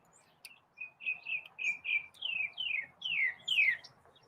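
A small pet bird chirps in a quick string of bright, clear tweets, close and alone, the notes coming in a steady rhythm and rising toward the end.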